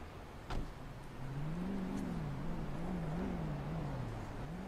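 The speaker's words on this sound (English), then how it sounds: "I hear a car" A car engine hums past at moderate distance in a GTA roleplay game scene, a steady mid-pitched drone wavering in pitch for a few seconds after a brief thump, with no talk.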